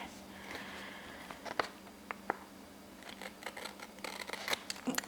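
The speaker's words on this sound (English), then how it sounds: "I'll use the scissors to trim it today." Scissors trimming a paper notes page for a planner spread, several quick close snips and light paper rustles at a quiet desk, no talking.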